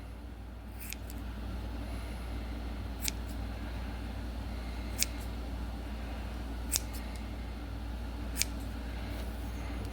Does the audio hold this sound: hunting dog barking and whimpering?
no